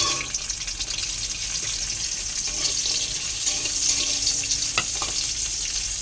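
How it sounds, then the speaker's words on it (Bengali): Bitter gourd fries in oil in a wok, giving a loud, continuous sizzle with a few faint clinks. "কড়াইতে তেল দিয়ে দিয়েছি, আর এই যে উচ্ছেগুলো একটু"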